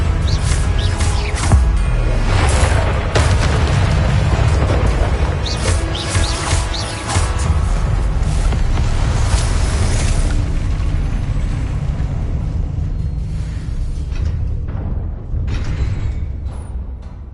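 Magic spells burst and boom in a Harry Potter video game, loud crackling explosions and whooshes layered continuously, thinning out toward the end.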